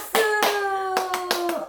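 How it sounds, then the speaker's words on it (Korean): A few hand claps in a Korean childcare teacher training session, sharp and close with irregular spacing, over a faint sustained tone. "박수!"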